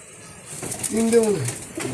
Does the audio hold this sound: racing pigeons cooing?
yes